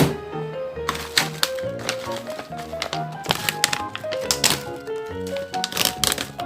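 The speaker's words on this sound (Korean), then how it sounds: "드디어 뜯었다. 어, 이쁜 포장지가 뜯어졌어." Pretty packaging wrapper torn open around meringue cookies, with a series of sharp crackling rips and taps close to the mic, irregular bursts throughout.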